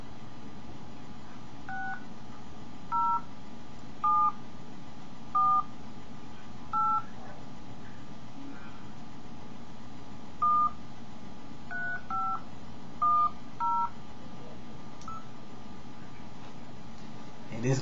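A phone keypad being dialed before a prank call gives about a dozen short touch-tone beeps. They come singly and in quick clusters at irregular intervals over a steady background hiss.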